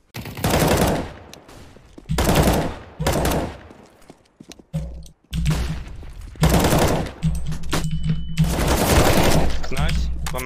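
Gunfire in Counter-Strike comes in loud, close bursts of rapid shots separated by short silences, with a low engine-like hum and what may be voices between the volleys.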